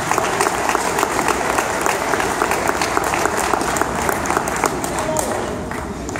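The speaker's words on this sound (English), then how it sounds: "We'd like a round of applause and thank you very much" Crowd applause at an Oktoberfest celebration thanking the event sponsors, a steady sustained clapping from many hands that fills the room at even loudness throughout, with faint voices mixed in.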